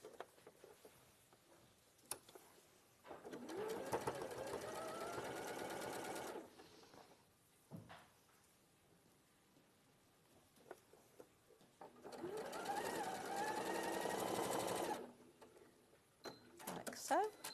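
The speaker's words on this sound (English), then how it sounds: "So you're going to sew those two together and those two together into pairs." A sewing machine runs in two clear bursts of several seconds each, stitching pieces of fabric together with a 1/4 inch seam allowance, its rapid needle chatter close by, separated by quieter pauses with soft handling sounds and occasional talk.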